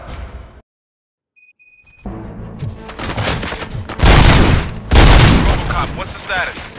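Bursts of gunfire during a Robocop Rogue City shootout, loud rapid volleys and booming shots rising after a short silence, close and sustained, with a voice heard among them.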